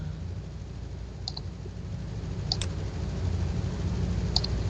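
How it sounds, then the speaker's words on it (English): A computer mouse clicks a few times while someone works in Photoshop, with sharp isolated clicks spaced a second or so apart against a quiet, steady room hiss. "I'm going to click on the word"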